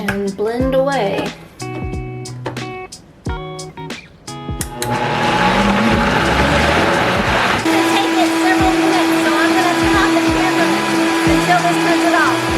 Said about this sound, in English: We're just gonna put the lid on the blender and turn it to the soup setting and blend away.